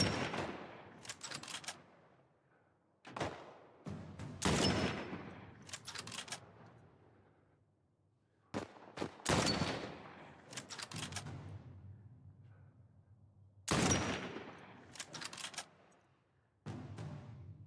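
Rifle shots ring out in The Last of Us, loud separate bursts of several rapid cracks with echoing tails, spaced by short quiet gaps.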